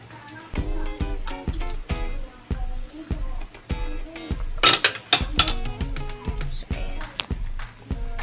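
A spoon scrapes and knocks against a cooking pot of mung bean stew in steady, repeated metallic clinks as the stew is stirred, with a busier patch of clanking midway.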